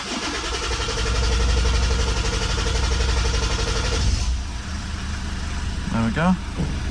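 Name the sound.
2009 Lexus IS220D engine cranking and starting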